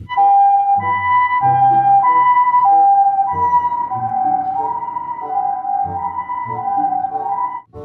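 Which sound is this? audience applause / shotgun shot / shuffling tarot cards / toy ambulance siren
toy ambulance siren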